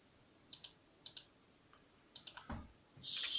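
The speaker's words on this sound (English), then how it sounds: "Let me type that up." Quiet computer keyboard typing in short bursts of clicks, paired taps and small clusters, close by and alone, ending in a brief louder hiss.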